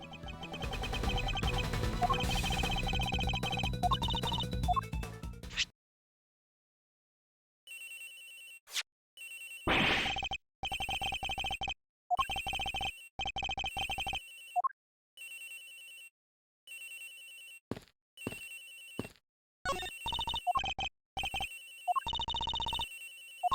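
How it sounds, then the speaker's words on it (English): A cell phone rings loudly in the Ace Attorney Investigations video game, heard as a rapid series of bright, repeating electronic ring bursts with short gaps, following a dense stretch of game music. "Wait, where is the cell phone coming from?"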